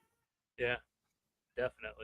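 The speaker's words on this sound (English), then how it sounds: "That's that's my cat pissed off because the door is closed." A cat meows angrily behind a closed door, giving one loud drawn-out call followed by a quick string of two or three more, with a voice briefly speaking nearby.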